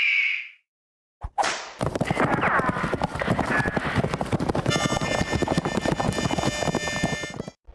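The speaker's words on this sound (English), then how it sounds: "Your horse is ready." Horse hooves clip-clop in a Wild West video game, a steady trotting rhythm under continuous game sound and voices, with a brief whinny near the start.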